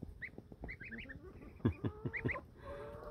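Baby Muscovy ducklings and pilgrim goslings peep and call nearby in quick overlapping chirps, a few louder honk-like calls standing out midway, with no speech.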